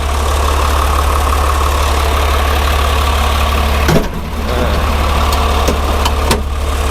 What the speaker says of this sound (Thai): เครื่องยนต์ก็เดินเบาเงียบๆเลย